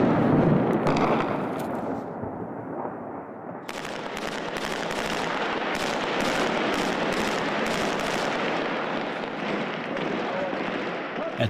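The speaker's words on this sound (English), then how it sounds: "Airstrikes rock the city." Airstrike explosions over Mosul, Iraq at night during the battle for the city, heard as a sustained rumble of dense, repeated blasts and bursts of fire that continue without a break, with no talk over them.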